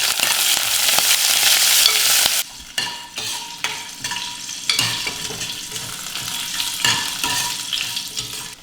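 Cumin seeds, green chillies and curry leaves sizzle loudly in hot oil in a pan at first, then settle into quieter frying as a spoon stirs and scrapes at intervals.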